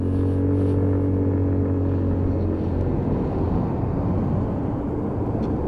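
A pink Lexmoto Titan 125 scooter is ridden along a road, its engine giving a loud, steady drone close to the rider, mixed with constant wind rush and no speech.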